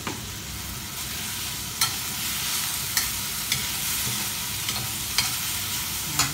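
Celery and shredded chicken sizzling in a pan, a steady close frying hiss broken every second or so by sharp clacks of a utensil stirring against the pan.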